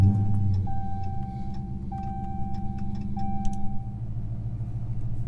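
A Chrysler 300 with a 5.7 HEMI and 87mm ported throttle body starts and settles into a steady low idle, with repeated beeping chimes and light ticking over the engine rumble.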